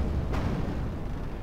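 A fireball artillery shot in the game Medieval 2 Total War lands as a single sharp boom with a short rumbling tail over steady battle ambience.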